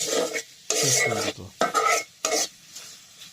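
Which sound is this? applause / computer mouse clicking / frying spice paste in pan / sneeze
frying spice paste in pan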